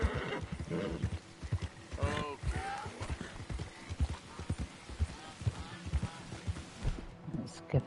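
A horse in the Red Dead Redemption 2 video game gives a clear whinnying neigh amid steady clip-clop hoofbeats, close and moderately loud.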